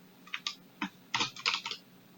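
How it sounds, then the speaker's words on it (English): Keys on a computer keyboard clatter in a few quick irregular bursts while HTML is typed, close and fairly faint in a quiet room. "I can type my HTML program there"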